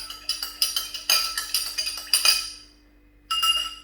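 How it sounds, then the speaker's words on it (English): A metal spoon stirs salt into indicator liquid in a glass, clinking against the sides in a quick series of bright taps, then pausing before a final clink, with no talk. "Take a bit of my indicator, take some salt, give it a stir"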